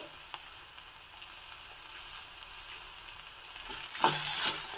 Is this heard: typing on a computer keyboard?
no